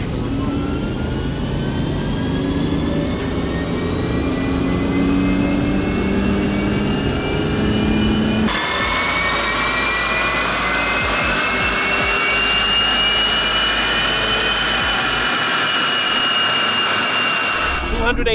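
A tuned BMW E90 diesel engine runs hard on a dyno, a loud continuous roar with rising whine that climbs steadily, then jumps in pitch and intensity partway through and holds at high revs to the end.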